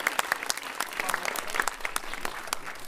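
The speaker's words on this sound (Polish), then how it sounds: "Jeszcze raz wielkie brawa." Audience applause at a sports gala, sharp individual claps forming a moderate, fairly close round of clapping throughout, with a few brief voices mixed in.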